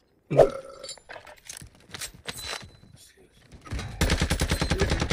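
Shotgun fire in the video game Warzone on Ashika Island: a sharp blast near the start, scattered mechanical clatter, then a rapid run of repeated shots toward the end, with a faint voice in the background.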